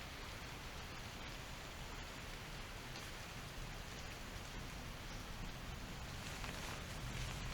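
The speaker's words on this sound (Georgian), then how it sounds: "ცოტა წვიმს კიდევ, მაგრამ მალე გადაიკარებს." Light rain falls through a forest, a soft, even hiss of drops on leaves and ground that carries on steadily without a break, faint and distant, with no voices.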